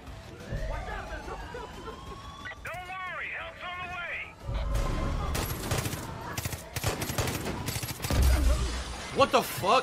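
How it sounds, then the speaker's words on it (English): A Lynx gun firing in Far Cry 5, with rapid bursts of gunfire and scattered shots that grow denser toward the end, mixed with background voices and chaotic battle noise. "I need to see the Lynx shoot."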